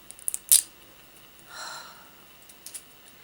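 Plastic packaging of a $5 pale NYX HD Photogenic concealer being torn and pried open, with a sharp crinkling rip near the start, a softer rustling scrape midway and a few light clicks, close and quiet, no talk.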